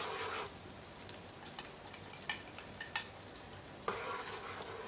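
Masala frying and being stirred in a pan for keema with green beans, a soft even sizzle with brief spoon scrapes and taps, close and quiet with no talk.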